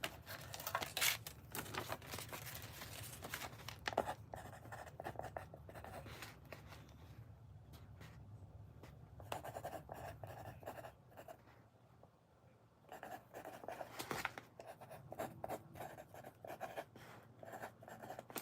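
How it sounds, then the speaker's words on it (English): A hand writes out the words "tarpon fly" in a casual fly-tying session, faint scratchy pen strokes in short bursts with a quiet pause in the middle, close and soft against low room hum. "let me write down tarpon fly"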